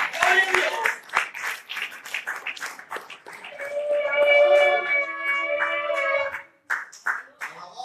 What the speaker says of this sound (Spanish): Dele fuerte palmas al Dios Todopoderoso.